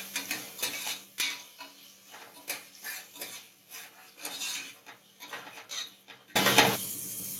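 Sambar vegetables with onion, tomato and salt being mixed in a pot, a spoon knocking and scraping against the metal in irregular close clinks, ending in a brief louder burst of clatter; no talking.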